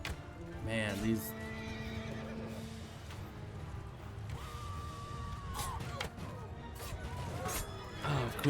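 A horse in Mount and Blade II: Bannerlord whinnies clearly, with further neighs and clip-clopping hooves amid battle clashes and crashes, while a person talks over the game sounds.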